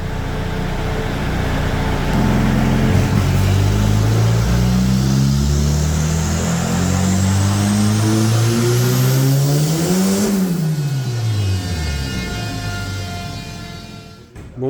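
A Citroën C15 engine on a bench test after the clutch was retightened, revving hard and steadily, its pitch climbing to a peak then falling sharply as the revs drop, loud and close, no talk.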